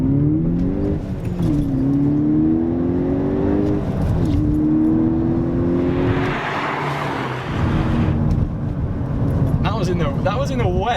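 A Volkswagen Golf GTI MK6 Edition 35 accelerates hard in first gear on a wet road. The engine note climbs through a couple of rising sweeps from inside the car, with people talking over it.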